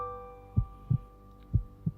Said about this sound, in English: I could still hear my heart beating as I sat down to eat.